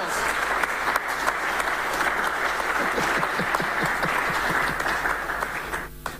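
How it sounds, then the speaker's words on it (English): Sustained applause from an audience at a public forum on monetization of mineral royalties, steady and dense throughout, easing slightly at the end, with a voice briefly surfacing underneath. "allow us to give you a round of applause"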